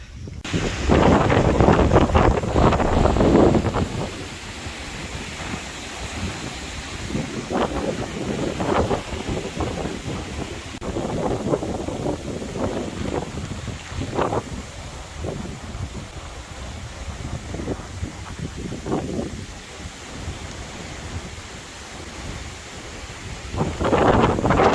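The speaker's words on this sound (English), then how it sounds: "The wind is still whipping, so there's still potential for more damage." Strong Hurricane Ian wind blasts and buffets an outdoor microphone, a loud continuous roar with gusting surges throughout, especially heavy at the start.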